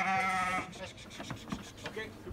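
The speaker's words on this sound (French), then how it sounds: "M. Castagnaro débarque ses brebis directement arrivées de Poya." Bleating from pure-bred Dorper ewes being unloaded after arriving from Poya, one strong harmonic call up close followed by fainter, scattered animal sounds and handling noise.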